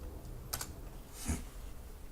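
Computer keyboard at a desk: a couple of soft, quick key taps followed by a single firmer enter-key press, faint and close in a quiet room.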